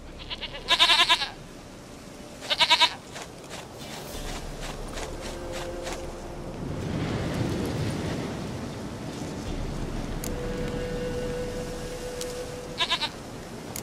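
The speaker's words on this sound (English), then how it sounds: "Goat of mine, dearest, sweetest goat." A goat in The Witcher 3 video game bleats in two short, loud bursts near the start and again at the end, with game ambience and faint footsteps between.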